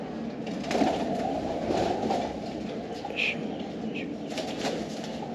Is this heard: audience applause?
no